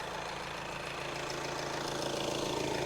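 A crash-damaged Audi A6 C7 engine idles steadily with a close, even mechanical hum and faint rhythmic ticking, continuous and unchanging throughout with no talk.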